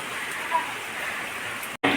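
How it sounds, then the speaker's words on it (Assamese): Light rain falls during a storm in Tezpur, Assam, making a steady soft hiss. It continues evenly apart from a brief dropout near the end. "মই বৰষুণত ভিজিম বুলি ভাবিছিলোঁ কিন্তু এনেকুৱা হোৱা নাই অলপ অলপ হৈ আছে"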